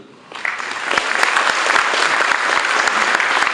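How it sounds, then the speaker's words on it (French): At a ceremony presenting a Commander's tie of the Ordre national du Mérite, a room full of guests breaks into applause, quickly swelling after a quiet start into dense, sustained clapping that stays loud and even to the end. "on peut l'applaudir"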